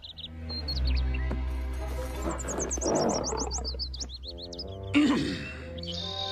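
High chirping bird song in quick trilled bursts plays over low sustained music, with a brief louder rustle near the end.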